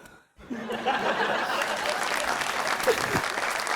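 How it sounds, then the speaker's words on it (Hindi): A TV talk show studio audience claps after a short silence, the applause swelling and holding steady, with bits of laughter and a voice or two mixed in. "तालियां, वेरी नाइस।"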